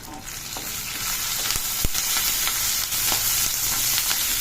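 Fresh drumstick leaves frying in a pan for fried rice, a loud continuous close sizzle with scraping stirs and one sharp clack, no talking.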